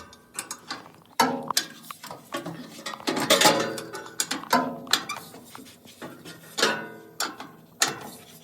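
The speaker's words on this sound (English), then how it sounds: "we're going to go ahead and tighten the alignment cams now" Quick clicking bursts of a ratchet wrench tightening alignment cams on a 2007-2021 Toyota Tundra with aftermarket upper control arms, several close, loud runs of rapid pawl ticks separated by short pauses.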